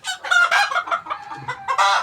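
Hens on a poultry farm clucking and calling close by in quick overlapping bursts, loud and clear with no talk.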